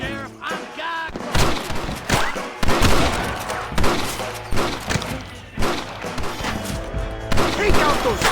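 Dense gunfire in the Western video game Red Dead Redemption, with rapid overlapping shots and thuds in a loud sustained shootout, while characters shout over the fighting.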